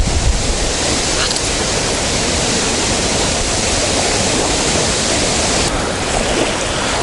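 Strong wind blows by the Dnipro river in Kyiv during feeder fishing, a loud, steady broadband roar that fills the whole stretch without letup, with no talk over it.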